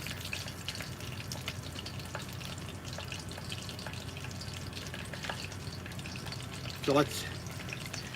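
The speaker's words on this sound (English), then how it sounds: "Frying up a little bit of chicken. We got some chicken drumsticks in there." Chicken drumsticks fry in a pan with a continuous soft sizzle and crackle, fairly quiet and steady, while someone speaks briefly over it.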